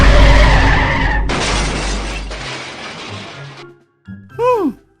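A car revs hard and skids with a loud rushing screech up close, the noise fading out after a few seconds, followed by a short whistling and a cartoonish falling sound effect.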